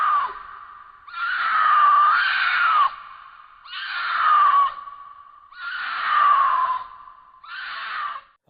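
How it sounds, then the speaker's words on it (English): Four drawn-out, wailing mountain lion screams in a row, each rising and falling like a harsh human shriek, loud and close, with short silent gaps between them. "If you hear them screaming, they sound like just the most demonic woman ever."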